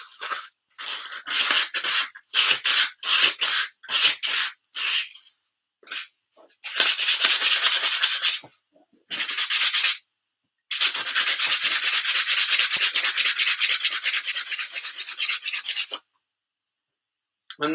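Hand sanding of a dodo sculpture: close, steady rasping strokes in quick bursts, first in short rhythmic passes, then in longer continuous runs, with brief pauses between.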